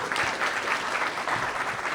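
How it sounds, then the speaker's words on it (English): A seated audience gives a speaker a round of applause at the opening of a cybersecurity and AI championship in Warsaw, a steady and moderately loud wash of clapping. "Let's give to Michał a round of applause."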